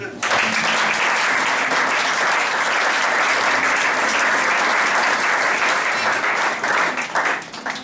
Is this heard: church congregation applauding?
yes